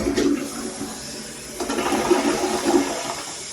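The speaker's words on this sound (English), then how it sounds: "2 full flushes in the modern toilet" A modern toilet flushes twice in a row, each a loud rushing swirl of water followed by refill gurgling, heard up close with no talking.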